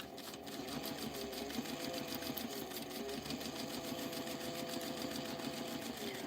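A domestic sewing machine runs steadily while basting a tote bag, a close, even, rapid stitching rhythm from start to end with no talking.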